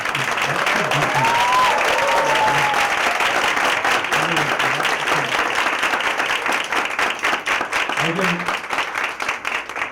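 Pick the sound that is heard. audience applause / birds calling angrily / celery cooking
audience applause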